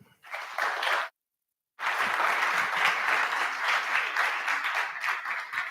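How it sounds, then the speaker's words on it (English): Audience applause at a TEDx talk in Sugar Land, a loud sustained wash of clapping that breaks off briefly and then resumes steadily to the end, with no talking. "I want you to give a huge round of applause for Jeff McManus"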